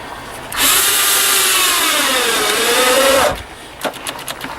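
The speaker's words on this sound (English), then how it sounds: "oh god, my drill's like nearly dead." A nearly dead cordless drill drives T25 deck screws during a GMC Envoy subwoofer install, a single sustained whine lasting about three seconds whose pitch sags and then climbs again, followed by a few short clicks and knocks.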